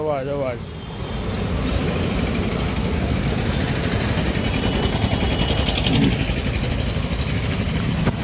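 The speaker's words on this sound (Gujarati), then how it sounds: "નકરા વાહનનો અવાજ" Evening city traffic in Surat, a dense continuous rumble of engines and passing vehicles close by, steady for several seconds after a brief voice at the start.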